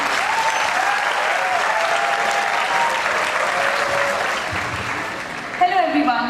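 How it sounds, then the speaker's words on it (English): A book discussion audience claps loudly to welcome the speaker, a full, continuous round of applause at close range that fades slightly before a brief sound near the end. "big round of applause to welcome sir."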